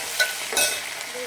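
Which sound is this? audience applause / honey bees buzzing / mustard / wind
mustard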